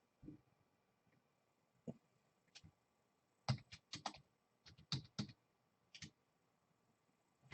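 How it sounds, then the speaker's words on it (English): Typing on a computer keyboard during a live stream, with scattered bursts of close, crisp key clicks separated by pauses in an otherwise quiet room. "I'm typing something out here."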